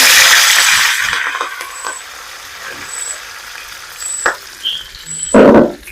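Broccoli hits a pan of hot garlic being fried for a homemade mixture snack. A loud burst of sizzling fades to a quieter crackle, broken by a few metallic clinks and a final short flare of frying.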